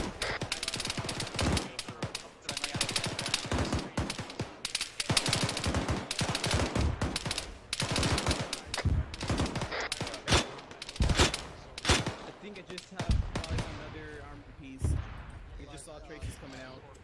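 HE rounds fired in a military video game, dense bursts of heavy gunfire and explosive thumps in rapid, irregular succession, loud and near, with occasional voices talking over it before the firing thins out at the end.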